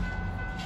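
A North Shore Scenic Railroad train rumbles steadily nearby, a low heavy drone with faint tonal whine on top, no voices.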